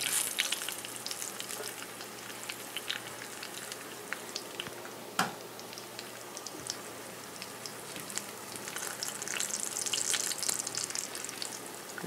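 Vegetables and bacon sizzling in a pan over a cooking fire, a steady crackling fry with scattered pops and one sharper snap, continuous and unaccompanied by talk.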